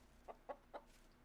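Chickens in the farming game Medieval Dynasty walking back into their coop give three soft, evenly spaced clucks, quiet against a faint low background with no talking.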